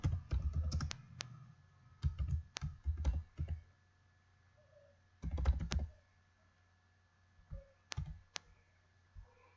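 Computer keyboard typing while entering an event name in a meeting scheduling tool comes as bursts of quick, crisp key clicks close to the microphone, with short pauses between words and a few isolated taps near the end.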